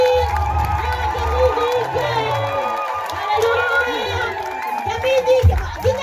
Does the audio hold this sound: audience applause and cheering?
yes